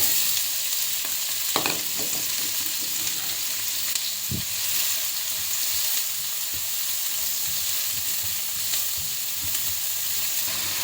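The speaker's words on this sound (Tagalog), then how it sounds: "Once mainit guys, ilagay na natin ang ating onion." Onion sizzles loudly and continuously in hot olive oil in a pan, with a few sharp clinks and knocks of a utensil near the start.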